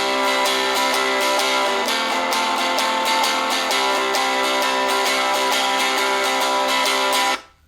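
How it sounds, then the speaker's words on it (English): A fast, steady shuffle strum on an acoustic guitar playing a song, with a long-short rhythm that keeps going for several seconds before stopping abruptly, played alone. "we could use a shuffle strum, which I like to play in this version because it's so fast"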